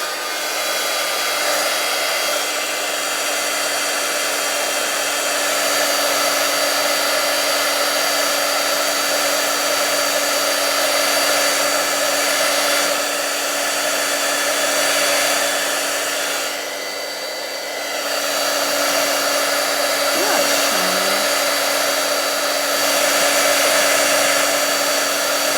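Handheld heat tool running continuously to melt embossing powder for card-making heat embossing, a loud steady blowing whir with a high whine, dipping briefly in the middle, close by and without talk.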